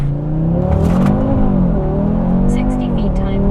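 A 500 HP Audi RS3 launches hard from a standstill, its engine droning loud and steady close by, the pitch climbing as boost builds and the car pulls away.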